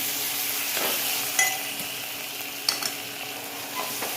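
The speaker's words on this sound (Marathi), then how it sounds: "छान असं हलवून घ्यायचं" Gram flour pithla mixture frying in a pan and being stirred, a steady close sizzle with a few light scrapes and clinks of the spoon, and no talking.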